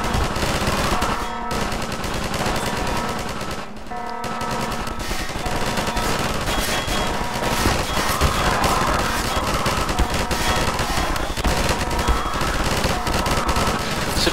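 Sustained rapid automatic turret fire from Half-Life 2 Episode 2, a dense, loud, continuous stream of shots with only brief breaks, no talking.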